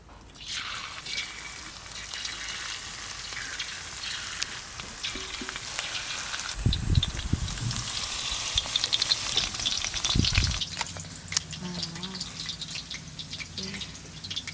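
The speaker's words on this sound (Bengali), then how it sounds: "বাকি চিকেনের পিসগুলো একই রকম ভাবে ভেজে নেব।" Chicken pieces frying in oil on a clay stove, a continuous close crackling sizzle with bursts of spattering and a few low thuds and scrapes as pieces are moved. No one speaks.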